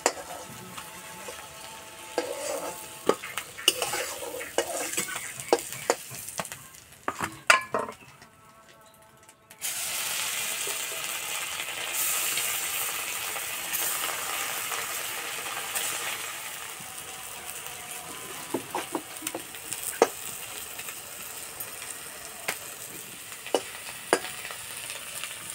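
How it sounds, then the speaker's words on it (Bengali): Cauliflower and egg frying in oil in a wok, giving a steady close hiss and sizzle with stirring scrapes and clicks, a brief lull near the middle, then loud, continuous sizzling. "ঠিক এইভাবে ভেজে নিতে হবে।"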